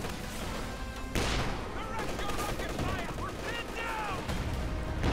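Gunfire rattles and booms through a Company of Heroes 2 battle, overlapping with crashes and explosions under a game commentator's continuous talk.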